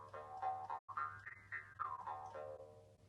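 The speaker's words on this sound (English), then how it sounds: "So here's kind of what the jaw harp would sound like if it was by itself." A solo jaw harp twangs with a steady low buzzing drone while the pitch of its overtones slides up and down in a wavering melody, with one brief gap.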